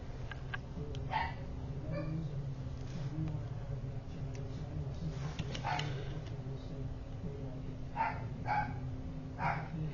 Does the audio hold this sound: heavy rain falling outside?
no